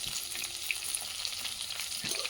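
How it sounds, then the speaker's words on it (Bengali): Fish fry in a pan over a wood fire, producing a close, continuous crackling sizzle with small pops. The sound stays steady throughout this short stretch, and no one speaks. "মাছগুলো ভাজা হয়ে গেছে, এবার তুলে নেব।"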